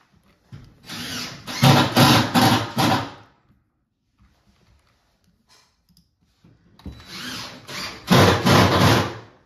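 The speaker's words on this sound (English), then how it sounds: "This drill is very loud." A loud power drill in a Roblox restroom game sounds in two bursts of a few seconds each, harsh and buzzing with a pulsing, stuttering texture, with a near-silent gap between them.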